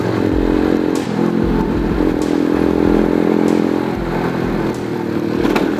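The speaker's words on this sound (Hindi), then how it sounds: "तो खड्डा बहुत गंदा खड्डा लग गया बाइक को" A motorcycle rumbles along a rough road, its engine droning loudly and close with clattering and scraping thumps as it jolts over a bad pothole.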